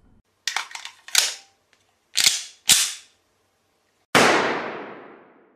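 A series of sharp gunshots, about five cracks spaced irregularly, with the final shot loudest and ringing out with a long echoing decay.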